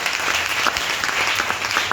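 Congregation applauding in a French-speaking church service, steady dense clapping from many hands throughout, loud and continuous.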